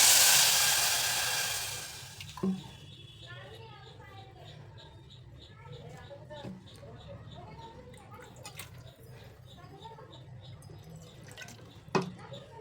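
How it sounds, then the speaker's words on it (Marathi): Half a cup of water pours into a cup of sugar in a pan to start a sugar syrup for ghevar. A rushing pour lasts about two seconds, then only soft drips and faint kitchen sounds remain. "त्यामध्ये घालायचे अर्धा कप पाणी"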